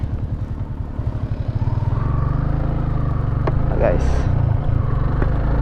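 A motorcycle with its stock exhaust refitted rumbles steadily at close range during a ride, a deep pulsing engine drone with a voice speaking briefly over it.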